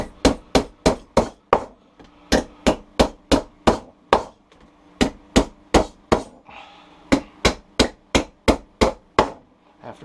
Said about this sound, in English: I'm choking up on the hammer, so hopefully I don't split it